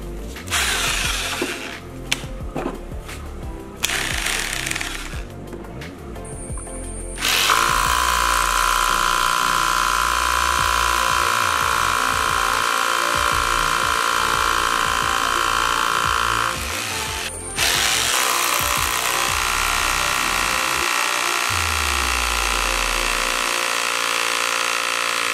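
An I Bell IBL RH 20-23 rotary hammer drill runs in two long, loud, steady bursts of high whirring hammering, preceded by shorter start-stop pulses and clicks, with brief pauses between runs.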